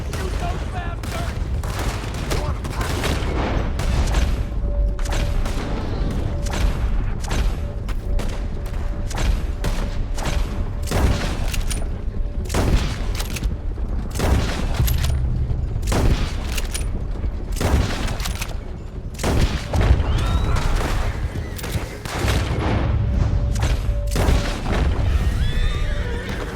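Gunfire erupts in a shootout during a stagecoach robbery in Red Dead Redemption 2, a rapid series of loud sharp shots cracking over horses neighing and hooves clattering, with shouting voices in between.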